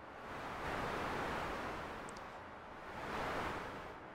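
A synthesized noise sound made in Sytrus and processed with reverb: a broad wash of soft hiss swells and recedes in slow waves, smooth and airy with a roomy, reverberant tail, no voices present.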